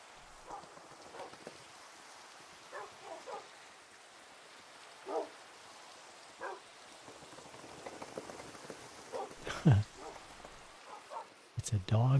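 Scattered short barks from dogs in Minecraft sound over a constant rain-like hiss, with a few louder, closer thumps and bursts near the end.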